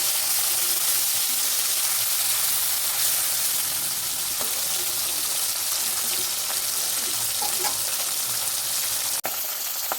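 Sarpunti fish frying in a pan, a steady dense sizzle and hiss that runs without a break throughout, with a faint stir or two and one sharp tap near the end.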